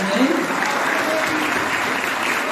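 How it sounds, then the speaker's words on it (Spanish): An audience applauds at a church gathering, steady dense clapping filling the room at close range for the whole stretch, with no clear talk over it. "Yo quiero darle un gran aplauso a todos los que participaron ese día"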